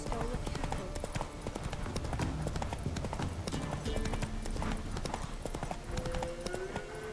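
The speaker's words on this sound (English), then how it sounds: "Whoa there, Roach" Horse hooves clip-clopping at a steady trot in The Witcher 3 video game, continuous and fairly close, with a brief whinny near the end and faint voice and ambient game sounds underneath.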